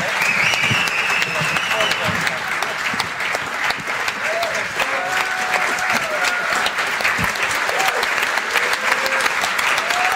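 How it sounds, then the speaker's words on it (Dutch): Sustained applause from a live audience at a Dutch awards-style event, dense steady clapping filling the room for about ten seconds, with cheers and a presenter's voice faintly underneath. "Dames en heren, nog eenmaal een warm applaus"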